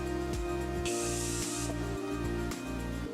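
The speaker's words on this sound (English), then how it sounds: "I won't spray as much this time" A short, soft hissing burst of makeup remover mist from a spray bottle under a low steady background hum, lasting under a second.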